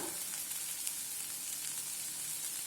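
Chicken liver frying in oil in a pan gives a steady, dense sizzle with faint crackles and pops throughout, close and continuous with no talking.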